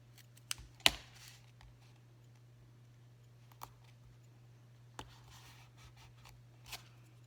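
Scissors snip embossed paper in a few sharp, quiet cuts, with a louder double snip early on and sparse single clicks after, against a faint steady electrical hum.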